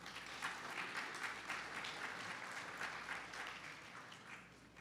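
Audience at a business conference panel applauds as the moderator is called up, a fairly faint, steady patter of many hands clapping throughout, tapering slightly toward the end.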